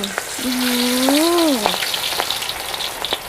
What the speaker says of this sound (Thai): ไปทอดกันเลย